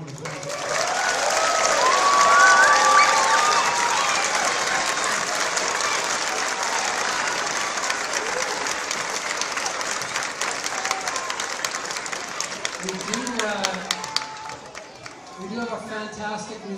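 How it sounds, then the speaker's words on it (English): Audience applause at a school spring concert, a loud sustained burst of many people clapping that swells, then gradually thins out toward the end as voices start chattering and someone speaks. "one round of applause."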